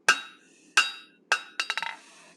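Ringing hammer blows strike hot steel on an anvil while an animal head is forged: three evenly spaced clanging strikes, then a quick flurry of lighter rebounding taps, close and bright with no speech.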